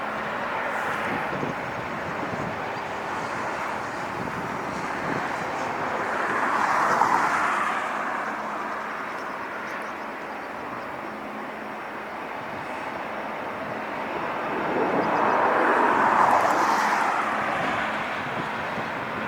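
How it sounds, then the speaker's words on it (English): A Boeing 757-300 jet approaching from Honolulu rumbles in the distance as a broad, swelling roar that rises and fades twice, with no voices present. "757-3 coming in from Honolulu"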